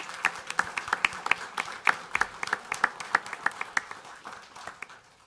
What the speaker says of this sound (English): So Caitlin Herker, big round of applause.